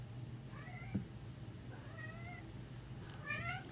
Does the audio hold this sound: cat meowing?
yes